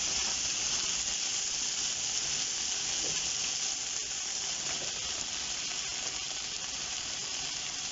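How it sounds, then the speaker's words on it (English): Butternut squash and sweet potato tipped into a pot of sweated onions and garlic, giving a steady, close sizzle and frying hiss that runs evenly throughout with faint clinks of stirring. "I'm going to start adding my veg."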